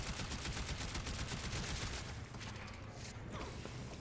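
Rapid, dense video-game gunfire from the STUG weapon, cutting down level 205 Corrupted Heavy Gunners, sounds as a steady loud clatter of shots and mechanical noise with no talking.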